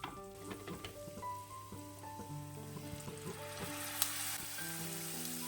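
Turmeric powder is stirred into a sizzling Kerala-style prawn curry base in a pan. Continuous frying sizzle sits under intermittent scraping and clinking strokes of the spoon, with one sharp metallic tap near the end.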